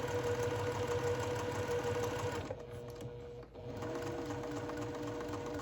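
A domestic sewing machine stitching anchor stitches on a floral dragonfly quilt, a fast steady mechanical whir and needle clatter that stops briefly midway, then resumes at an even pace.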